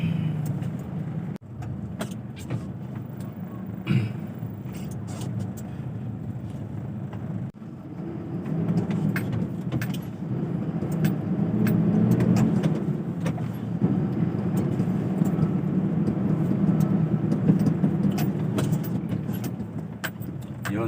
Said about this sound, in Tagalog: sa traffic lang tayo gawa ng rush hour